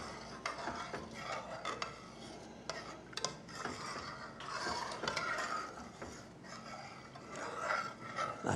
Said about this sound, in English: Got to stir this to make it go just right.